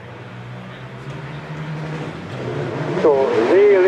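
At the Doune hillclimb, an OMS 28 race car with a 1660 Suzuki engine idles at the line, then its engine revs climb sharply into a loud rising whine as it launches.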